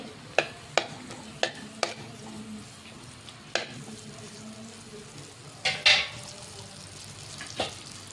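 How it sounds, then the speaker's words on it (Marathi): Ghee goes into a pan and sizzles, with scattered sharp ticks and clinks of a spoon against the pan and one brief louder sizzling swell, all close and without talk. "आता मी या पॅनमध्ये तूप टाकत आहे।"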